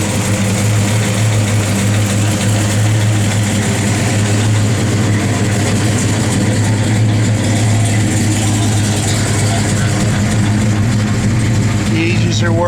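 A 1966 Chevrolet Chevelle SS with its 396 V8 runs steadily, loud and close, a deep even rumble with no revving changes throughout.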